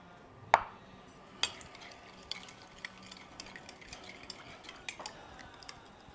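A spoon stirring a food mixture in a bowl after olive oil is added: sharp clinks and scrapes at irregular intervals, the first ones loudest, over a quiet background.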